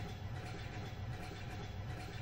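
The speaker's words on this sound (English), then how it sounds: "The sound of the train was still clear as before" A train runs on its rails in the horror video game Train of Afterlife, a steady, low, rumbling roll with faint rhythmic clatter, continuous and moderately quiet with no talk.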